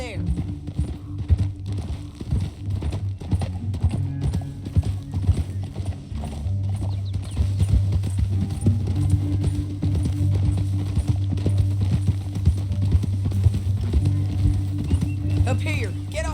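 A horse's hooves clip-clop at a steady trotting rhythm in the Western video game Red Dead Redemption 2, loud and continuous, with occasional whinnies and characters talking over the hoofbeats.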